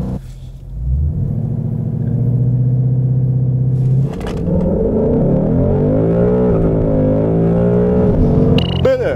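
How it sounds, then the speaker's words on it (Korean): A 2018 Ford Mustang 5.0 GT V8 pulls hard through an acceleration test. Loud, steady engine roar climbs in pitch, with a gear change around midway before the rising howl builds again, ending in a brief sharp sound. "여기서 잠시 포드 머스탱의 가속 성능에 대해서도 한번 알아볼까요?"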